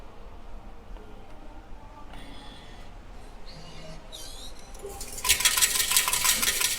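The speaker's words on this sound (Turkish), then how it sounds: "burada bozuk para veren bir cihazdan değiştirme yapacağız şimdi" A coin change machine at a Pokémon Center in Japan whirs and clicks with small mechanical rattles, then a loud cascade of coins clatters out into a metal tray near the end.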